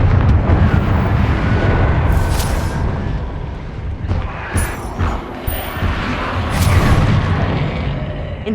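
Fiery explosive blasts from the Confringo spell in Hogwarts Legacy, a run of loud, rumbling booms and bursts rolling one into the next with no voices.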